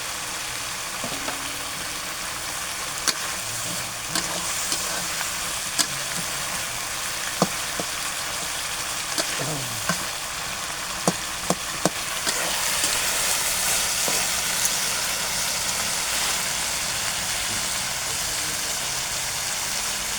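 Chickpea and potato curry fries in a pan with a constant sizzling hiss, punctuated by scattered clicks and scrapes of stirring, growing slightly louder toward the end.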